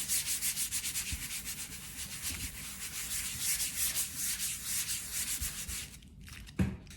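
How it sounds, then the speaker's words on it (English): Gel print paper is rubbed by hand over botanicals from the garden to lift the detail, a close, steady, rhythmic scrubbing that continues for several seconds, with no talk. "time to rub it to get the detail."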